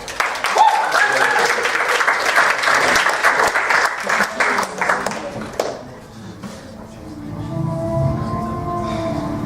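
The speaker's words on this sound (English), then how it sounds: "Please give them a round of applause." A theatre audience applauds loudly for several seconds with dense, continuous clapping. The clapping then cuts off, leaving quieter stage sound and voices.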